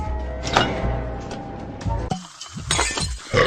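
Glasses clink together for a wine toast at a festive dinner, short bright chinks over low room murmur and clatter.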